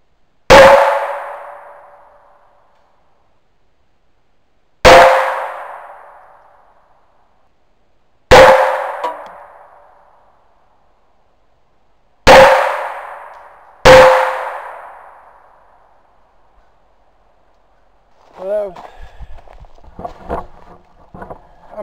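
Five sharp metallic clangs of shots striking steel shooting targets, spaced a few seconds apart, each ringing out and decaying, followed by faint talk near the end.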